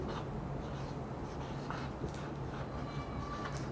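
Marker or chalk writing on a board during a physics lecture on rheostats, a soft continuous scratching under a steady low hum with no one talking.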